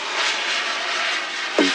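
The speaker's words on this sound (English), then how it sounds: "Of course there will be a plane as soon as I start filming" An airplane passes overhead outdoors on a weekday afternoon, a steady loud engine roar filling the whole moment without any talking.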